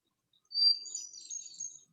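A wild songbird delivers a high-pitched, thin warbling phrase, a quick run of bright twittering notes lasting about a second and a half, heard clearly on its own against silence.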